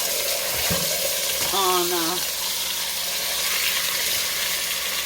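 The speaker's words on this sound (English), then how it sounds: "I'm just going to sear it" Seasoned meat rubbed with garlic, salt and pepper sizzles steadily in a hot pan for birria tacos, a constant frying hiss beneath a brief spoken word and a short clattering of utensils.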